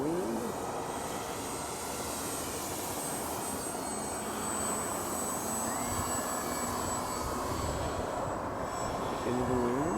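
An E-flite Timber RC plane fitted with floats flying overhead, its electric motor giving a steady, even drone that holds at a moderate distance for the whole stretch, with no talking.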